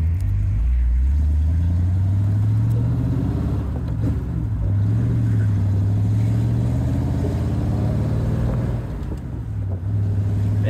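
A 1937 Ford Phaeton Model 78 with a flathead engine drives along the road, its low engine drone rising and falling steadily through gear changes, loud and close for the whole stretch with no talk.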